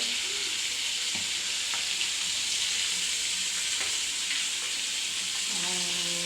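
Fish frying in hot oil gives a dense, steady sizzle close by, with scattered sharp spattering pops throughout and no voices.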